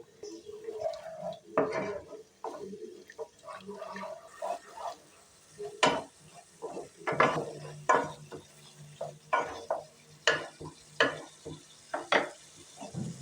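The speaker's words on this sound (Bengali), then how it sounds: "এবার সব কিছুকে ভালো করে একসাথে কষাবো আরও একটু জল দিয়ে দিচ্ছি" A spiced mixed-vegetable and paneer curry masala is stirred and sautéed in a pan with a little added water, giving repeated scraping and clinking strokes over a soft sizzle, close and fairly quiet, with no voices.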